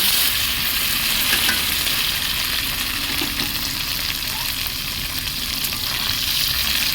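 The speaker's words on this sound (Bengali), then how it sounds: "তেল গরম হয়ে গেছে, এবার পনিরগুলো ভালো করে ভেজে নেব।" Paneer pieces fry in hot oil in a kadai, giving a steady, dense sizzle that runs close and unbroken throughout, with no voices.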